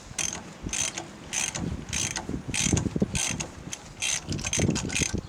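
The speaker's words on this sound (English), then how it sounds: "That's how you remove a harmonic balancer on a small block 302." A harmonic balancer being pulled off a Ford 302 small block V8 engine, with a steady series of metallic ratcheting clicks coming in rhythmic bursts, close up and fairly loud, and no talking.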